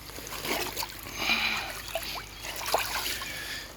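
A cold mountain creek in the Catskills trickles and burbles over rocks and pools, soft and close, with small splashes and drips rising and falling in an uneven rhythm and no voices.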